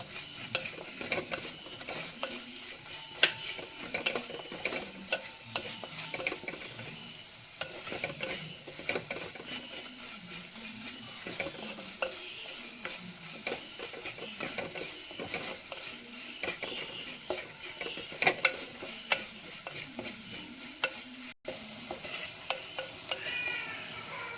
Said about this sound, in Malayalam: പൊടി നന്നായിട്ട് മൂത്ത് വരട്ടെ. നല്ല പച്ചമണമൊക്കെ മാറി നന്നായിട്ട് മൂത്ത് വരണം.